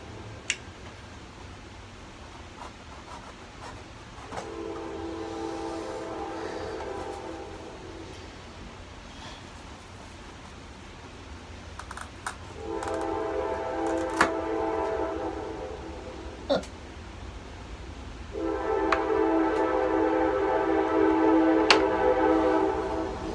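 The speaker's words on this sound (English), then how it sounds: "I let the choo-choo go by first." A train passing by outdoors, a low rumble with three drawn-out horn blasts, each louder than the last, and occasional sharp clicks nearby.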